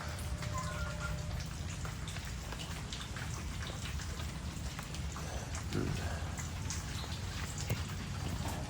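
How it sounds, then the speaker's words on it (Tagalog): Heavy rain pours steadily in Davao, a dense, constant hiss of drops drumming on surfaces, near and loud throughout with no pauses and no one talking. "napakaulan dito sa amin"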